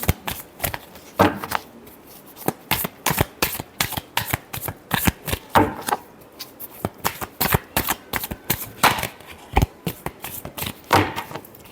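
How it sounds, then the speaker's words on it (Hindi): A deck of cards being shuffled by hand, with rapid riffling bursts repeating in quick irregular rounds, close and crisp, with no talking over them. "Last shuffle."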